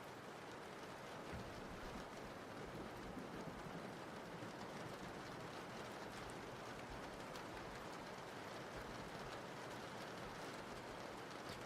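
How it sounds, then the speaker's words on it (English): Steady rain falls in a continuous soft hiss and patter, faint and even throughout with no voices. "You guys like the rain ambience?"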